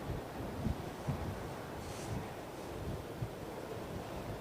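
Steady blustery wind at London Heathrow Airport buffets the microphone, making a continuous low roaring rush with small gusty bumps and no voices.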